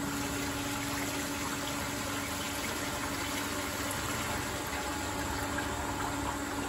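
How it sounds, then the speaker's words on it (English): Pump filling the tank of a Joemars 322 AZ manual spark erosion machine with dielectric fluid, a steady, even rush of liquid and motor hum that holds at one level throughout without any talking. "We're ready to fill up the tank, so we're going to close the gate and then turn the pump on."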